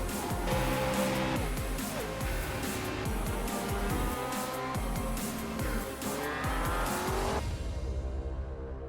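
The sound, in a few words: race cars in iRacing sim racing video game, Summit Point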